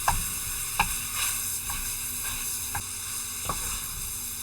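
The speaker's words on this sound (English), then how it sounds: "So I'm browning the sausage," Sausage browns in a hot pan for Louisiana dirty rice, with a steady close sizzle running throughout and five or six sharp utensil clicks and scrapes spaced irregularly across it.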